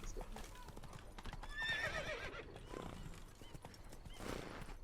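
Roach, the horse in The Witcher 3, gallops with rapid rhythmic hoofbeats and lets out a clear neigh midway, fairly quiet, with someone talking over it.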